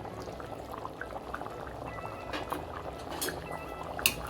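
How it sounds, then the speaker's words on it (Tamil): A thin trickle of lemon juice pours into a bubbling, simmering pot of chicken curry, with soft splashes and popping over a steady low background. "கடைசியாக லெமன் ஜூஸ் 1 ஸ்பூன் எடுத்து வச்சிருந்தால அதை ஊற்றிடலாம்."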